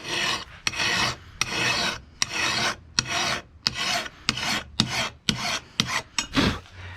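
A hand file rasps across a lawn mower blade being sharpened, in steady repeated strokes with brief pauses between them, close and fairly loud with no talking.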